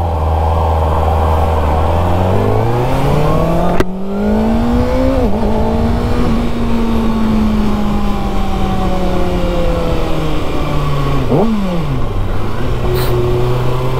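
A Kawasaki Ninja ZX6R in sports mode pulls hard in first gear, its engine note climbing steadily before quick-shifter upshifts cut in with abrupt drops, then settles into a strong, loud drone through Bangalore traffic.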